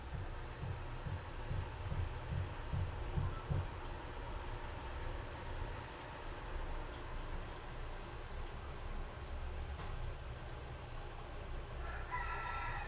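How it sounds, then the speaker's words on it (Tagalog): A rooster crows at a distance against a steady low rumble of background noise, faint and partly buried. "May natunog na manok, may na tilaok."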